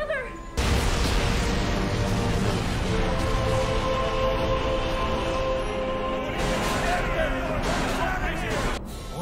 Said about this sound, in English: That's the sound of a building exploding.